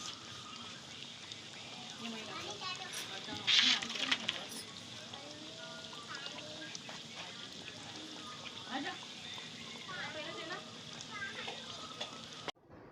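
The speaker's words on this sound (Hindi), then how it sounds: "अब मैं इसकी स्लरी नहीं बनाऊंगी, डायरेक्ट इसको फ्राई करूंगी" Pinwheel samosas without a flour coating deep-fry in hot oil, giving a steady crackling sizzle throughout with brief louder bursts of bubbling and a few clinks from stirring.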